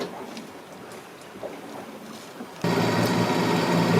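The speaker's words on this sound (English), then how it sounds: "The engine is running since 3 o'clock." A sailboat's engine runs while motoring at sea in the Bay of Biscay. Soft wind and water sounds come first, then a loud, steady, close engine drone suddenly takes over and holds.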